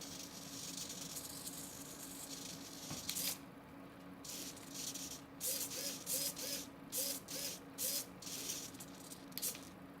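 Repaired RC servo motor running in a test, giving a series of short whirring buzzes in quick bursts, close and fairly quiet over a steady background hum.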